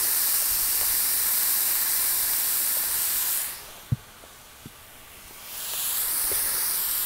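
Nacho meat with taco seasoning cooking down in a pan, giving a loud, steady hiss of sizzling that drops briefly to a quieter simmer with a couple of light knocks, then swells again.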